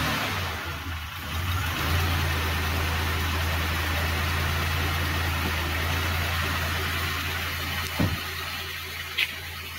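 A car engine, just repaired and working on six cylinders, idles steadily late at night with a smooth low hum throughout, the motor close by, with a couple of brief clicks near the end.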